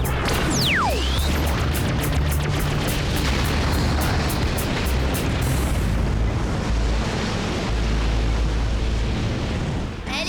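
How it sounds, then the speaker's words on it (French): A cartoon laser cannon blast: a roaring, continuous blast with a sharp descending zap near the start, loud and dense throughout, fading slightly after six seconds. "Il a actionné le canon laser!"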